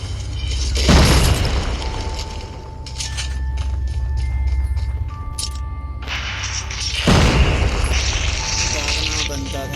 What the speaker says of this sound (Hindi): रॉकेट लॉन्चर मार रहा है यार।